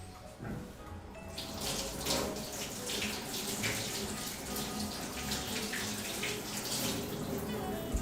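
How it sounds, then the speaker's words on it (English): A kitchen tap runs steadily as raw chicken is rinsed beneath it for a mole recipe, a close, continuous splashing hiss with shifting spatter as the meat is turned under the stream. "so let me just give this guy a quick little rinse."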